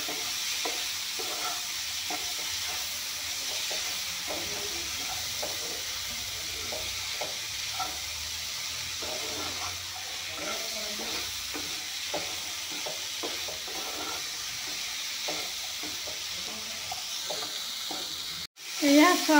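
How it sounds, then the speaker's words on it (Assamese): Ingredients are stirred in a hot pan while the mixture fries with salt added, giving a steady, close sizzle with repeated scraping strokes throughout, and a brief sharp clatter near the end. "এতিয়া এইখিনি ধুনীয়াকৈ ভাজি ল'ম।"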